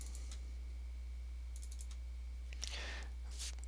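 A computer mouse clicking in a Word document, a few quick faint clicks including a double click over a steady low electrical hum, no voices.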